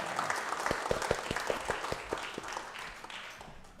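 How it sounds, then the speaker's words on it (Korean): A church congregation applauds, with distinct individual claps standing out over a steady wash of clapping that holds at a moderate, fairly distant level and tapers slightly toward the end. "박수 한번 다시 부탁드립니다"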